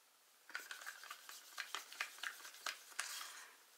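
A stick stirs and scrapes a thick American Floetrol paint mix, giving a quick run of wet scraping strokes and small clicks against the container sides, close and fairly quiet, without talk.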